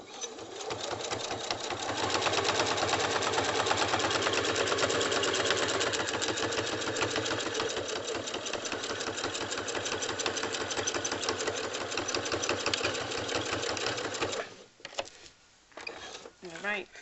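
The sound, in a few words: sewing machine running while stitching quilt binding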